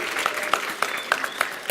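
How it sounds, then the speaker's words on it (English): Short burst of applause from a science lecture audience, a crowd clapping steadily for under two seconds. "Let's give the guy applause."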